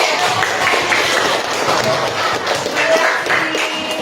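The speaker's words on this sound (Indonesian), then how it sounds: "Tepuk hebat." A group of students claps together in a classroom coding and artificial intelligence lesson after a robot task succeeds, a dense, steady patter of hands lasting several seconds with some voices mixed in.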